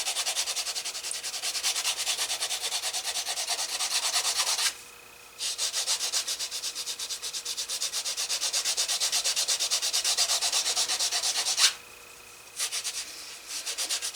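A canvas wallet edge is burnished by hand: steady, close rubbing strokes run back and forth, broken by two short pauses.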